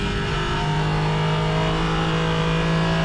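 Porsche Cayman GT4 RS Clubsport race car on track, its engine droning loud and close with a sustained steady tone and a slight rising pitch, heard alone.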